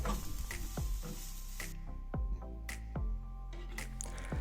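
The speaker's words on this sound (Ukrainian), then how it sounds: "До цибулі додаємо морку і також пасируємо 2-3 хвилини." Carrot and onion sauté together in a pan with a soft, quiet sizzle, broken by repeated light taps and scrapes of stirring.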